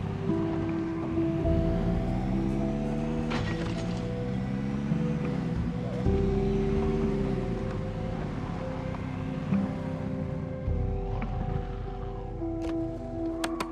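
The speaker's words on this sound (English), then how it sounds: "I'm gonna turn off the car for a minute and..." A car in the video game Project Zomboid drives at night with a steady low engine drone whose pitch shifts up and down with gear and speed, continuous and moderately loud throughout.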